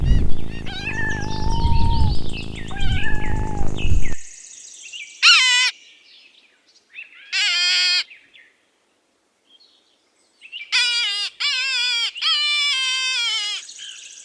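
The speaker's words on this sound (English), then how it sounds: "kitten," High, thin kitten mews come in short bursts separated by silences, the last few arriving in a quick cluster, heard after an opening stretch of busier mixed sound.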